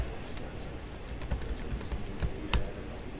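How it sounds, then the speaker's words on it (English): A name is typed on a computer keyboard in a steady run of close key clicks with a few sharper taps, under a faint room hum. "So I'm gonna type my name in."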